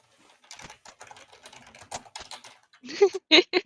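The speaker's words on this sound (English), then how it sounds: "Typing." Short bursts of computer keyboard typing come in quick clusters near the end, following a stretch of quieter clicking mixed with faint background sound.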